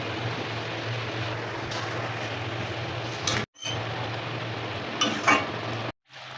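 Fried bhola fish stirred into a pan with cumin and chopped onion, a steady broad sizzle with scraping stir strokes, close and fairly loud, broken by two short silent gaps.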